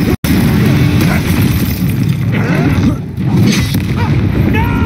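Fiery Incendio spell blast in Hogwarts Legacy, a loud sustained roaring burst with rumbling low crackle throughout, one sharp cut near the start and a brief dip partway, set against busy combat noise.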